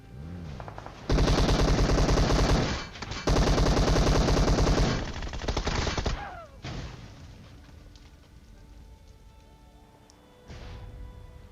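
Automatic gunfire in the mobile battle-royale game PUBG Mobile: loud, dense machine-gun bursts that run for several seconds, break briefly, then resume, followed by quieter scattered shots and lingering game noise, with no talking.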